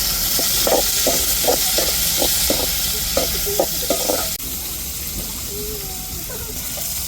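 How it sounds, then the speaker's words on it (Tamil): Tomatoes hitting a hot tempering for a fish curry, sizzling and frying with a steady hiss and rhythmic stirring scrapes for about four seconds, then a quieter, settling sizzle. "தக்காளி தாளிப்பில் சேர்த்துக்கிறோம்"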